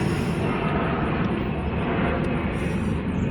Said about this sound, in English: there's a jet going over